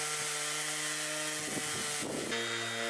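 A DeWalt DCW210 orbital sander runs at full speed with 60-grit paper, giving a loud continuous buzzing whine with steady motor hum that roughens and shifts pitch briefly as it bites into the surface, with no voices.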